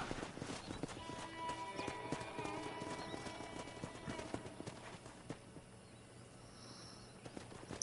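Horse hooves clip-clop steadily through the clip, with an occasional whinny, in the Western video game Red Dead Redemption, all fairly quiet, at low overall level.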